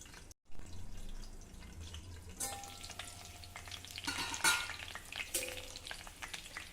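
Eggplants cooking in oil in a covered pan over low heat, with a soft, fairly faint sizzle and occasional louder clatters and bubbling bursts as the pieces are turned; no talking.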